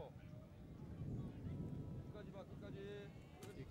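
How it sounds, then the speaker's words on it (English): Low thunder rumbles steadily in the distance behind faint crowd and ambient noise at an outdoor women's team archery competition, a soft continuous roll under the scene with no clear speech. "You can hear the thunder in the background,"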